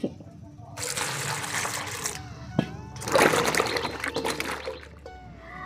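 Peeled new potatoes are washed in water, two close bursts of splashing and pouring separated by a short pause, with quieter handling in between.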